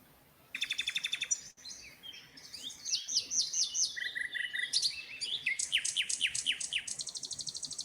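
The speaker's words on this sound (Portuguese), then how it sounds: "E o rouxinol entrou e cantou." A nightingale sings nearby, delivering rapid trills, whistled phrases and repeated chirping notes in varied bursts that carry through to the end, with no talk.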